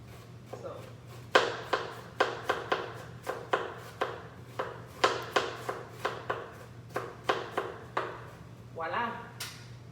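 Fresh onions are chopped on a board with a knife, sharp, close, fairly regular thumps repeating over a low steady hum, without talking.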